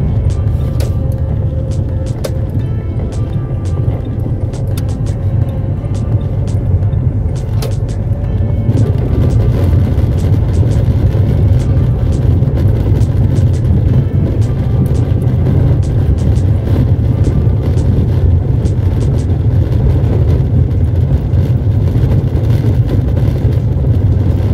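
A car being parked on a street in Teófilo Otoni, Brazil, gives off a steady, close engine and road rumble for about twenty-five seconds, with faint clicks and knocks on top and no talking.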